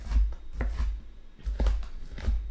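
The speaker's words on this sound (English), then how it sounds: "can't tell I'm still cutting up onions" Knife chopping onions on a board during a live home cooking session, a series of close, firm thuds and short chops in quick, uneven bursts with no talk.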